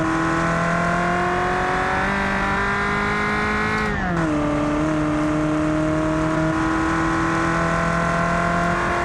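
A race car in the driving game Automation runs along a test track with a loud, sustained engine whine. Around the middle the pitch drops sharply and then climbs again as the car slides.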